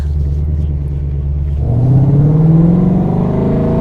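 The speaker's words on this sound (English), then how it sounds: "The noise of this car is an absolute joke" A loud car engine rumbles, then revs up and accelerates with a rising, droning pitch, close and steady.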